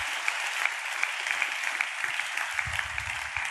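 A church congregation claps steadily together during a sermon, a dense, even wash of many hands with small rhythmic accents, sustained throughout at moderate loudness with no talk over it.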